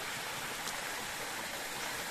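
A forest river rushes over stones, a steady loud broadband babble of flowing water heard up close without pauses or voices.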